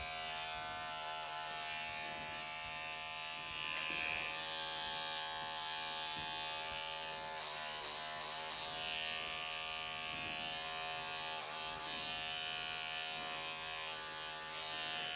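Electric clippers buzz steadily and close by while grooming the belly of a Ragdoll cat, a continuous hum that runs uninterrupted for the whole stretch with slight shifts in pitch as the blade moves through fur.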